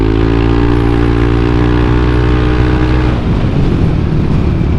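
A Yamaha Aerox 155 VVA scooter engine drones loud and close, its pitch shifting as it accelerates, with a rougher change in tone toward the end.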